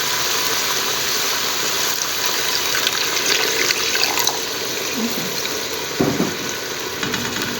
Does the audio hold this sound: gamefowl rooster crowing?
no